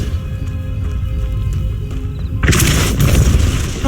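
A Depulso spell cast in Hogwarts Legacy, a sudden loud burst that erupts partway through and leaves a roaring, rumbling wash over the ongoing game ambience.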